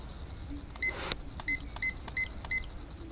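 A La Crosse Technology alarm clock sounds a string of short, high electronic beeps at a quick regular pace, preceded by a brief click-like noise, fairly quiet and alone.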